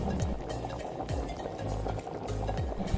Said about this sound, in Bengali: আমি গ্রেভির জন্য দেব হালকা গরম জল।